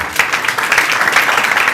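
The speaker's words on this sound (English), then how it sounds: "Round of applause" Audience applause at a book launch for A Doctor for the People, a short, close burst of many hands clapping in quick irregular rhythm.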